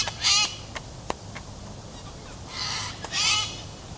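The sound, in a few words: cockatoos calling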